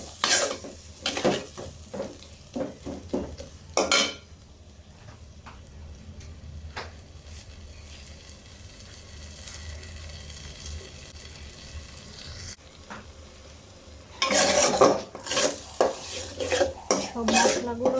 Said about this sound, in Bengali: সব মশলাগুলো দিয়ে সুন্দর করে কষাই নিই।